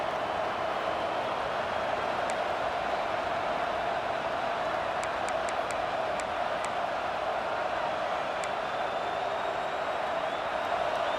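Stadium crowd in a football video game roars steadily behind the defense on third down, a dense, constant wall of cheering with scattered sharp claps and whistles over it.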